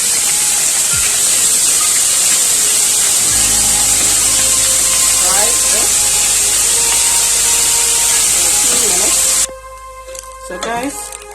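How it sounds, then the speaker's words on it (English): Minced meat stir-frying in hot oil in a preheated saucepan, a loud, steady sizzle with spattering hiss running for most of the clip, then cutting off abruptly near the end to quieter background noise. "you keep stir frying your minced meat for about 4 or 5 minutes"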